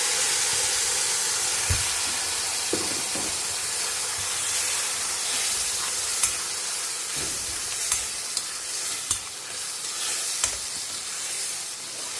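Asafoetida, curry leaves and a ground paste sizzle in a pan. A steady hiss is broken by scattered pops and light utensil clicks.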